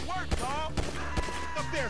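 Gunshots from GTA V story mode: three sharp, punchy shots spaced roughly half a second apart, each a loud broadband crack over steady game music and ambience.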